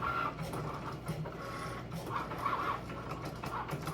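A Cricut Maker 3 cutting machine cuts Siser EasyWeed heat transfer vinyl, producing a steady mechanical whir with rhythmic pulsing as the carriage moves back and forth at close range.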